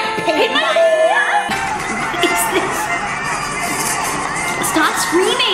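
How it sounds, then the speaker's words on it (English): Loud, continuous screaming and whooping from a crowd of excited voices, sustained and close throughout without a break. "Stop screaming."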